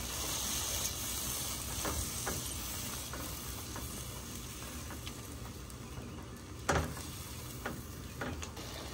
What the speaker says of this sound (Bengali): গুঁড়ো মশলা আর পেস্ট সব একসাথে দিয়ে ভালো করে কষিয়ে নিচ্ছে। সামান্য মশলা ধোয়া জল দিচ্ছে।